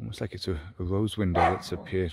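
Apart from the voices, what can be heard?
dog barking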